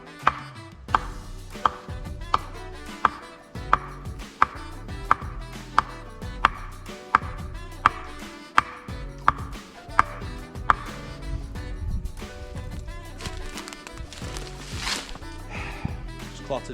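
An axe chops into a wooden stake at a bushcraft camp, a steady series of sharp, evenly spaced knocks that runs for most of the stretch, fairly close, with outdoor ambience and some handling noise between strikes.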